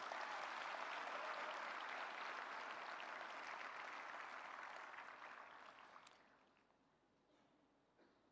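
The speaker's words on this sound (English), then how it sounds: "Give a big round of applause for the entire team which has worked for it." Audience applause at a summit for the signing of the India–United States Pax Silica Declaration: a dense, loud ovation holds steady for about five seconds, then thins and fades to scattered claps and quiet.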